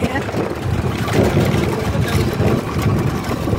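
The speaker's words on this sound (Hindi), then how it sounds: "आगे से एक ट्रैक्टर आ रहा है" A tractor engine approaches along a village road lined with sugarcane fields in Jamalpur, Bijnor, Uttar Pradesh, giving a steady, loud, rumbling drone throughout.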